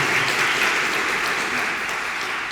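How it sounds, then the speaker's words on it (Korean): A church congregation applauds in welcome, a steady, dense burst of clapping from many hands in a room, lasting the full couple of seconds with no voices over it. "박수로 환영하겠습니다."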